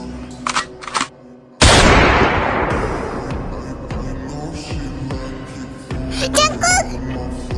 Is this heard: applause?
no